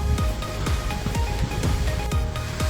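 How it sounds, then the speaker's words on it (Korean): A mountain valley stream on Baegunsan in Gwangyang flows steadily, producing a continuous close wash of rushing water with small splashes throughout. "햇볕은 뜨거운데 계곡의 물소리가 시원스럽게 들립니다"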